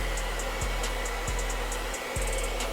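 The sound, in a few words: hair dryer heating a pistol grip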